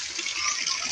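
Water pours steadily into a concrete catfish and tilapia pond, making a constant hissing gush with no breaks and no talk.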